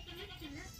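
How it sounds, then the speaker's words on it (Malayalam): Goats bleating in a village house compound in Chenni village, a short wavering cry heard close over background noise and faint voices. "ഇതിൻ്റെ ഉള്ളിലൊക്കെ ഒരുപാട് ആടുകളുണ്ട്."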